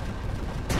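A cannon in the space game Empyrion fires once near the end, a sudden loud broadband blast that cuts through a steady low rumble of game ambience.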